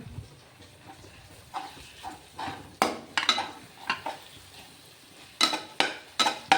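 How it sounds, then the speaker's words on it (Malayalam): Irregular scraping and clinking of a utensil stirring garlic paste in oil in a pan for mutton biryani, repeated strokes over a soft sizzle, close by and without speech. "നമുക്ക് നല്ലോണം ഇളക്കി കൊടുക്കാം"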